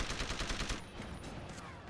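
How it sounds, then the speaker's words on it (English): Rapid SMG gunfire in the Deus Ex: Revolution video game, a fast burst of repeated shots for under a second, then fading echoes and ambient game sound. "Let's use the SMG shit."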